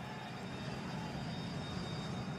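A jet aircraft, the cartoon character Big Jet, roars by as a steady, full rushing engine drone that stays even and close throughout, with no talking.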